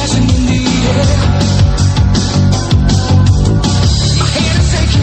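A mysterious 1980s-style song plays loud and dense, with a steady driving beat and full instrumentation that continues without a break.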